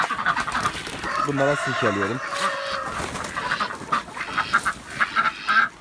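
At feeding time on a chicken farm, ducks and chickens squawk, cluck and crow around the feed while someone speaks briefly over the lively, close flock.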